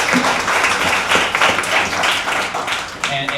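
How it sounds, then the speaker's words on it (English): An audience at a U.S.-Japan entertainment honors event at Soho Warehouse gives a round of applause, with dense clapping lasting several seconds and a voice speaking alongside it. "Round of applause."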